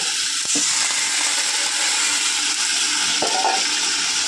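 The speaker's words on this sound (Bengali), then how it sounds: "মশলা কষে গেছে, এবার আমি জল দেব" Water is poured into a pot of spiced potato curry, making a steady, close rushing splash that lasts several seconds, with a couple of brief clatters at the start and a few seconds in.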